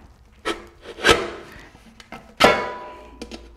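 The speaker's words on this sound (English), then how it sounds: "you can cut pretty much any thin metal with a knife like this" A knife blade cuts into a thin metal can in three or four loud, raspy scraping strokes, each with a sharp metallic crunch, separated by brief quiet pauses.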